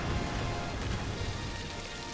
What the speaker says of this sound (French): La pluie acide.